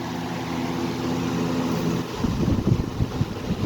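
A 2000 Holmes HABF-27 electric fan running on high speed, a steady airy whoosh with wind-like buffeting that grows rougher and gustier partway through, close to the microphone.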